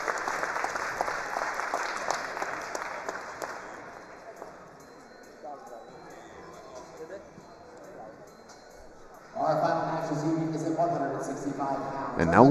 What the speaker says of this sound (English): will walk off and get a big hand from the crowd